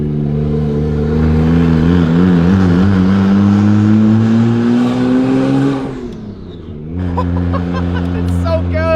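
A twin turbo car engine revs loudly up and down, its pitch climbing steadily, then briefly drops away before surging again. A whirring turbo spool rides over the engine note, and voices talk underneath.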